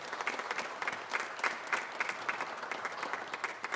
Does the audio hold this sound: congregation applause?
yes